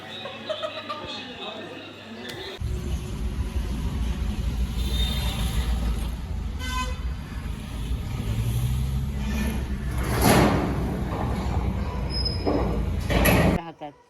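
A train rumbles past in the Konkan countryside, a loud steady roar that lasts about eleven seconds and then cuts off, with voices talking over it.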